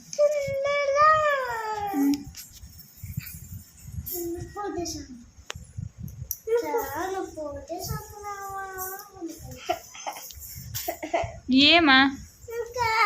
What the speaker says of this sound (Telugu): దగ్గుంది నీకే